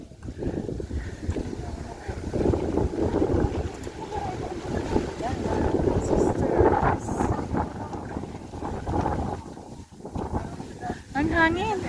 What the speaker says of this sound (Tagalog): Lamig ang hangin.